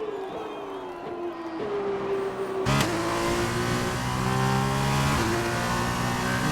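An F2 race car drives Monza in F1 2021, its engine whining up through the gears with a sharp shift midway and other cars audible around it, loud and close, with a faint crowd murmur.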